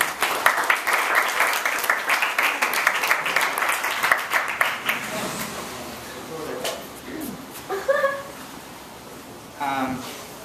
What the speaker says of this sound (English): let's all give a round of applause for Byron Campbell